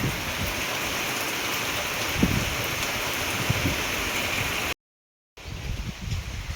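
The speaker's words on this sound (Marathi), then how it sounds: "हवा सुटली आणि पाऊस थोडा कमी झालाय बरं का" Steady rain falling over an open farm field as wind picks up, a continuous dense patter with a few louder drops, briefly cutting out before resuming, no voices.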